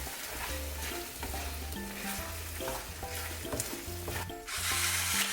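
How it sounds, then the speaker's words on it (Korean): Rice being stirred into squid kimchi risotto in a pan, a steady close scraping and stirring over a constant sizzle, with no voices. "밥을 한 공기 정도 넣고 잘 섞어준 후에 물을 조금 넣어서 농도를 맞춰주었어요."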